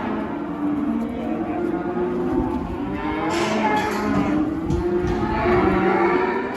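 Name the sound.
cattle mooing at a livestock sale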